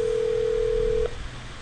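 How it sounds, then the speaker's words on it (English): A call waiting beep on an IP phone in a voice lab, a single steady electronic tone held for about a second, then cutting off into faint background hiss. "So there you see a sound which is ringing, which is a call waiting beep"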